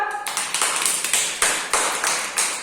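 Children in a classroom clap together in a few loud, rhythmic bursts of group clapping, close and without talk.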